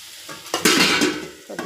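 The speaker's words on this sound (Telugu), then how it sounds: "ముల్లంగి తాలింపు అయిపోయిందండి, చేయడం అయిపోయింది." A radish tempering sizzles in a pan, with a burst of frying hiss, a spoon stirring and metal scraping against the pan, close and fairly loud.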